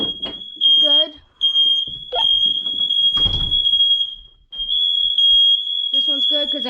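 A residential smoke and carbon monoxide alarm sounds during a December system test, a loud, sustained high-pitched tone that cuts out briefly twice, with people talking in short bursts beneath it.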